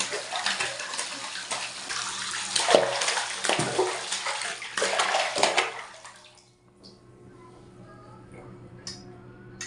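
Cold water poured and splashing while a baby is bathed, close, uneven gushes for about six seconds before fading to quiet drips.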